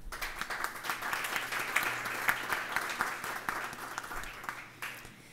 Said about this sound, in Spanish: Con este aplauso les saludamos.